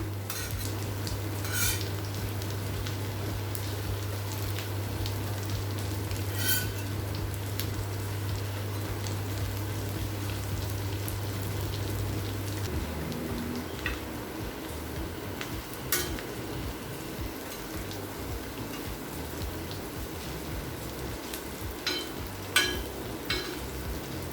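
Steady, soft sizzling of food frying in a pan on medium flame while making coriander rice, with occasional light clinks of a utensil against the pan throughout.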